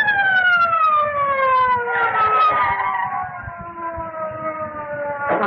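A police car siren wails in a long descending tone, loud and close at first, then fades and winds down over several seconds, with rumbling traffic noise beneath.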